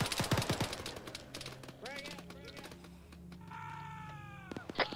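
Rapid gunfire bursts in the Arma 3 video game, loud and dense in the first second, then sparser shots under distorted voices and game sounds.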